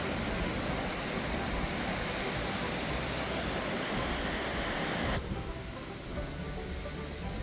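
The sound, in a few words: waves and wind on a Michigan beach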